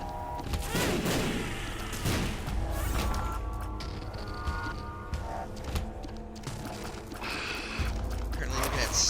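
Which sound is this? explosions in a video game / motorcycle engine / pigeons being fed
explosions in a video game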